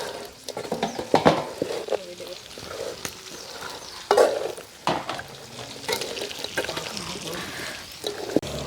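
A devilled dish coated in sauce is stirred and fried in a pan, with repeated scraping strokes over a steady sizzle while people talk nearby.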